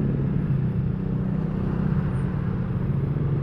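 Yamaha Sniper 155R motorcycle exhaust during a sound check, a steady loud low rumble from the engine held at near-constant revs throughout, close by with no talking.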